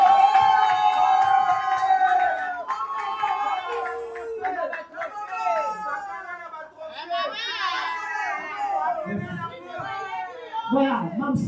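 An audience at an award presentation for Sila Bisalu cheers and shouts, with many excited voices and children's voices rising together, loud and close throughout.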